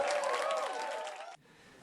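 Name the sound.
students cheering as Brad Little enters lecture room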